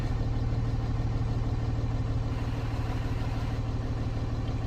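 An International truck engine runs at a steady idle, a continuous low, even rumble close by with no other sounds.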